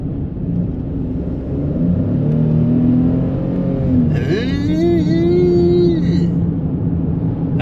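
A Ford Bronco Sport small SUV engine switched into sport mode hums and rises in pitch as it revs, a steady close drone with a brighter whine swelling midway through.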